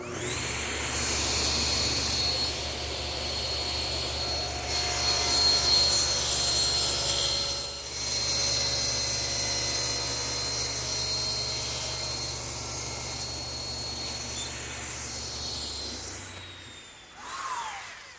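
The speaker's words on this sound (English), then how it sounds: "to do that, I use my table saw and my miter gauge" A table saw with a miter gauge cutting mitered corners on wooden furniture legs: a steady high motor whine drones close and loud throughout, its pitch dipping slightly as the blade bites the wood, then winding down at the end.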